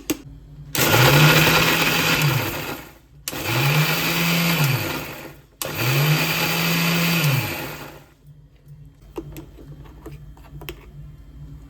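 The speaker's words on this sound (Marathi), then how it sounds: "हे सगळं मिक्सरला लावणार आणि तुम्ही स्वतः बघणार किती सुंदर आणि स्मूथ आईस्क्रीम झाली" Mixer grinder blending rice, makhana and cashews into an ice cream base, three loud whirring bursts of a couple of seconds each with short pauses between, then quieter handling clicks after the motor stops.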